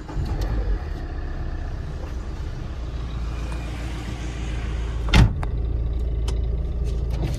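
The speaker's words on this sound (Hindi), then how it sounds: "ये दूसरा पावर विंडो देखिए, ये भी बिल्कुल प्रॉपर वर्किंग है" A used Tata Indigo VX sedan with a power window motor whirring steadily, nearby, over a constant low engine hum, with a brief thump near the end as the glass stops.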